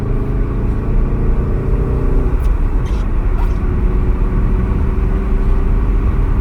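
A steady, low artificial engine rumble piped into the cabin of a VW Golf R Mk7.5, broadband and constant with slight surges, no voices.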